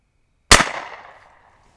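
A single sharp report from a CCI .22 LR shotshell fired out of a rifle, close and loud, its echo fading over about a second with no talk.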